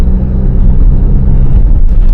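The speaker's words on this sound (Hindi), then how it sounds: "ये देखो, अब आप इंजन नॉइज सुन लेना कितनी गाड़ी के अंदर आ रही है।" Cabin interior of an MG Gloster driving in sports mode, with a muted, steady low engine rumble and road drone throughout, fairly subdued and without speech.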